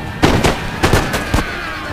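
Line infantry in the strategy game Empire: Total War fire musket volleys, several sharp cracking shots going off in quick irregular succession over a background din of battle.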